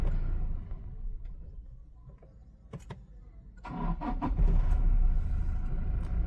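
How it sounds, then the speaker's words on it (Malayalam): Up close, a Toyota Innova Crysta engine with a broken engine mount turns over and runs with an uneven knocking rattle and steady rumble, loudest toward the end. "അത് എഞ്ചിൻ മൗണ്ട് പോയിട്ടാണ് ആ സൗണ്ട് വരുന്നത്."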